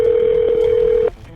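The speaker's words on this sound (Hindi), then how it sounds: "फिर थोड़ी देर बाद शहरा 911 को कॉल करती है।" A phone rings on an emergency 911 call, one sustained electronic ring tone held steady for about a second before cutting off abruptly, loud and alone.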